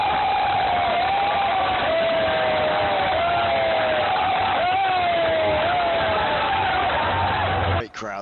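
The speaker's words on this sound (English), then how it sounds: "Great crowds once again. They're always at the side of the road." Roadside spectators cheering and whooping along the route of the 2010 Tour of Flanders cycling race, a continuous loud crowd roar with a passing vehicle's whine sweeping through and rising shouts.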